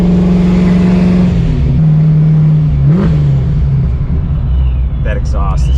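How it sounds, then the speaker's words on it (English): 1987 Foxbody Mustang with a 302 V8 and loud, rowdy exhaust, heard from inside the car as a close, deep droning idle, then a short rev that rises and falls around the midpoint before it settles back to a rumble. "That exhaust is just so rowdy. For a little 302, it doesn't sound too bad."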